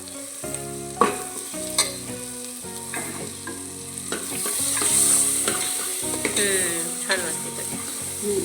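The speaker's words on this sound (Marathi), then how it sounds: "हा मसाला छान परतला आहे" Masala paste for mutton curry sizzles loudly in hot oil while a spoon scrapes and stirs the pan in repeated strokes, close by.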